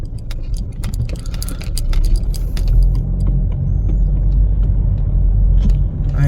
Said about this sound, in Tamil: செம்ம டிராஃபிக் மக்களே.